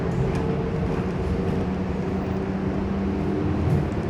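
A steady, even rumble of a Taipei metro train in motion fills the carriage from inside, with a low mechanical drone and faint hum running constantly throughout.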